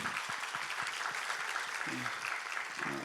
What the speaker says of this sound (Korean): 우리 살아계신 하나님께 영광의 박수 올려드리겠습니다